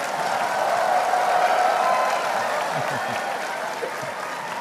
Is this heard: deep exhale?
no